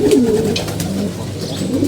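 Pigeons coo steadily and close by in a loft of healthy domestic birds, a continuous low throaty murmur of several birds overlapping.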